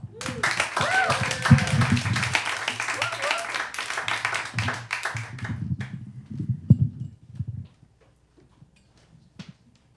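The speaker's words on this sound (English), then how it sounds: "Give a big round of applause for Tyler Tuttle." Comedy show crowd applauding a performer, lively clapping mixed with voices and cheering for several seconds, then thinning into a few isolated claps and near silence.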